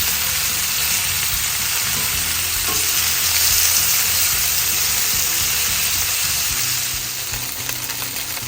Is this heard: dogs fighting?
no